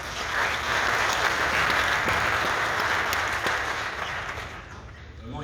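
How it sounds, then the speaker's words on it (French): An audience at a Moroccan business federation's summer university applauds a speaker. Dense, sustained clapping from a large crowd holds steady for several seconds, then thins and fades toward the end. "il n'y a pas besoin de m'applaudir pour ça"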